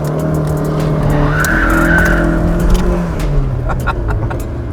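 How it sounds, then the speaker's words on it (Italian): An old car doing a wheelspin burnout, engine roaring loud and close as the tires squeal in a sustained screech, with a faint voice in the background. "Che fai, una sgommata, non ce la fai?"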